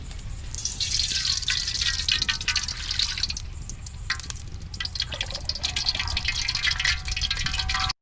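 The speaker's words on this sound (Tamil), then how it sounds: "கழுவி வச்சிருக்க சிக்கனை இந்த எண்ணெயில் போட்டு அரைவேக்காட்டாக பொரிச்சு எடுக்க போகிறோம்." Washed chicken pieces sizzle and crackle in hot oil for village-style chicken karahi, a dense, steady hiss that runs loud and close the whole time with no talking.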